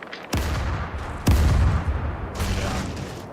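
Cannon fire in the naval game Caribbean Legend, three heavy booming blasts spaced about a second apart, each followed by a rumbling decay, loud and close with no talk.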